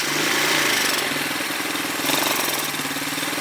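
An ATV engine idles steadily, a little high, with a fast, even rumbling chug, close and fairly loud throughout, with no voices.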